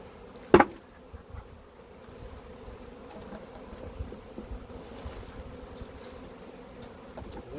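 Honeybees from an early swarm buzzing steadily around a beekeeping nucleus hive, a continuous low drone of many insects with a sharp knock near the start and individual bees passing close.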